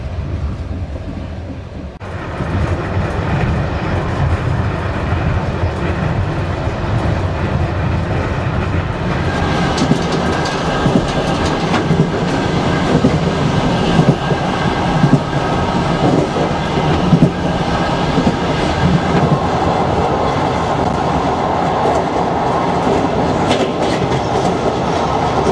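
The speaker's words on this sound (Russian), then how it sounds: "Но главное — стук колес." Steady rumble of a moving passenger train in Bashkiria with rhythmic clickety-clack of wheels over rail joints, continuous and fairly loud throughout, no voices.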